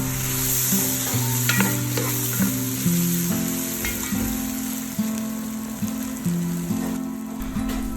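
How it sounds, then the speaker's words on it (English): Tomato pieces stirred into sizzling oil with turmeric, salt and spices in a pan for a Sri Lankan fish curry; steady loud frying hiss with repeated utensil scrapes and clinks against the pan throughout, no voices. "Then add tomato pieces and mix it."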